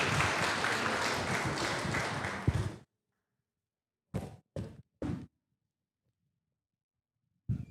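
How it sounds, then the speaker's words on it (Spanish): A short burst of applause from a crowd cuts off abruptly, followed by near silence broken by a few brief thumps. "Fuerte el aplauso, por favor, para Rosenda."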